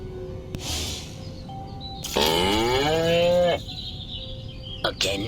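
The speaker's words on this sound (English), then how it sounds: "Again with the moo?" A cow in the Destroy All Humans video game gives one long, loud, drawn-out moo in the middle, with quieter game sounds and a few brief electronic tones around it.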